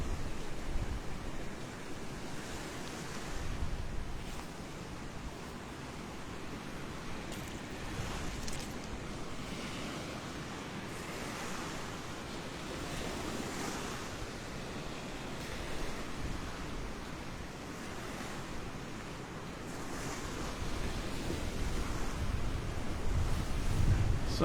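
Ocean waves break steadily on the beach at Delnor-Wiggins as surfers try to ride them. A continuous broad roar of surf carries on throughout, with wind rumbling across the microphone.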